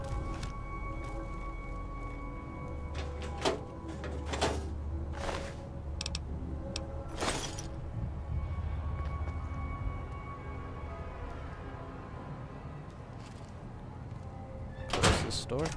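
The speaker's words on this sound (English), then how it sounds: "Close this door so I don't get interrupted while stealing stuff." Doors closing and latching inside a hotel in the modded game Fallout New Vegas, several dull thunks and clanks spread across a steady low ambient game drone.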